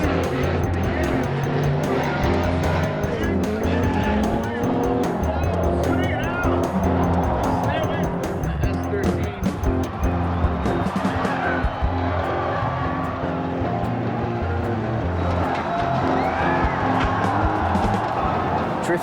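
A drift car driven by Rhys Millen roars at high revs with sustained tire squeal and skidding, loud and continuous, with voices mixed into the din.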